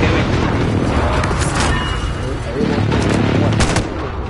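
Gunfire in the video game GTA V crackles in dense, overlapping bursts through a busy mission fight, with heavy booming impacts and people talking in the background.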